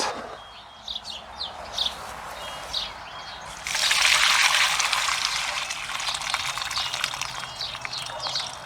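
Rinse water is poured out of a container of soaking ingredients, a steady splashing pour that starts partway through and carries on over faint background chirps.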